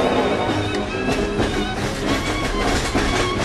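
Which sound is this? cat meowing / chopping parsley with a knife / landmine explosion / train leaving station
train leaving station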